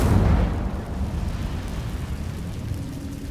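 A fiery burst from the Incendio spell in Hogwarts Legacy erupts loudly at the start, then settles into a low, rumbling roar of flame that carries on steadily for a few seconds.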